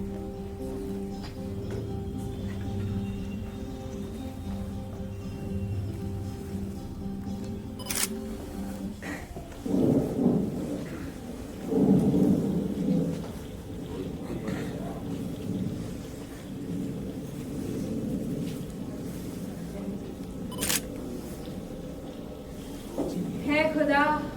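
Steady rain falls while low thunder rolls in a couple of heavy bursts during a theatre performance, with voices speaking over the storm.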